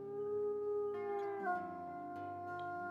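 A wolf in the video game WolfQuest lets out a single long, clear tonal howl that holds its pitch, then dips and settles lower, alone against a quiet background.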